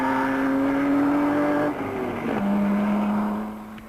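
An Alfa Romeo race car in the Mille Miglia road race roars past close by, with a loud, steady engine drone whose pitch drops as it goes by and then fades.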